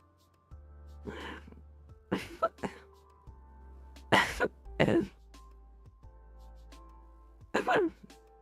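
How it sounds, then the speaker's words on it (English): A series of harsh coughs and throat clearing bursts, close and fairly loud, spread out over a quiet room with a low steady hum. "But that was a huge cough."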